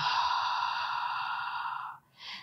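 A long, steady exhale during a Pilates exercise, breathy and close, lasting about two seconds before a brief pause and the start of a short second breath.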